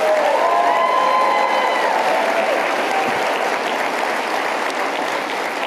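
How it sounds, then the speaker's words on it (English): An audience at a Turning Point USA event gives loud, continuous applause, a dense wash of clapping with a few cheers that holds steady throughout. "Big applause for Turning Point USA"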